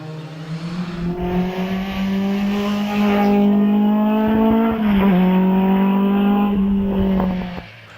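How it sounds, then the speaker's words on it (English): Hillman Imp race car climbing the Prescott hill climb course, its engine note rising steadily and holding a strained, high-revving tone, with a brief gear change midway and no talk over it. "I think the Imp is going slower perhaps than he normally would"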